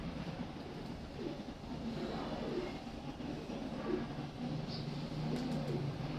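A breeder pigeon coos softly in repeated low calls over a constant background hum, fairly faint and with no talking.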